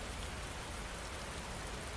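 Steady rain falls as a dense, even hiss, constant and close with no breaks or other sounds.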